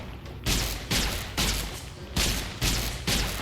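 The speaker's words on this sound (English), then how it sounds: "Somebody is shooting me." Gunfire from enemies in Fallout New Vegas, a series of about six heavy, booming shots spaced roughly half a second apart, loud and close with ringing tails between reports.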